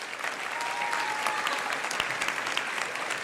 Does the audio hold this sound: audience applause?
yes